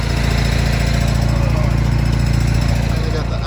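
A generator engine runs close by during a winter bus rescue in Minnesota, giving a loud, unbroken mechanical drone with a fast, even pulse throughout.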